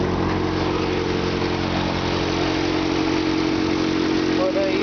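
A Toyota Hilux pickup idles with a small exhaust leak. The engine gives a steady, close, mid-pitched rumble with a rapid regular pulse that stays constant throughout.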